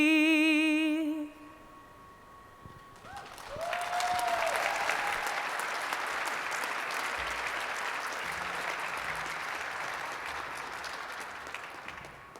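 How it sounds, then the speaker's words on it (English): After a sustained sung final note from an Air Force singer's anthem fades, an audience at an exhibit opening erupts into steady applause that swells quickly and continues evenly, with light cheers inside it. "Another round of applause for a great rendition."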